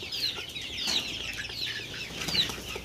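Chickens with their chicks, some suffering from fowl pox, making soft repeated clucks and high peeping calls at close range, with occasional faint wing rustles and no talking.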